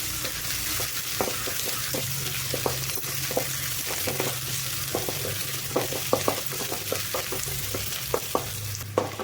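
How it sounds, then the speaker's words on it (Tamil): Onions sautéing lightly in a pan give a steady, close sizzle with frequent soft clicks and scrapes of stirring throughout, no voices. "வெங்காயம் வந்து லைட்டாக வணக்கிக்கோங்க"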